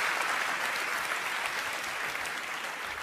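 An audience at a stand-up comedy show applauds steadily, a thick, even wash of clapping held at constant level throughout, with no talk over it.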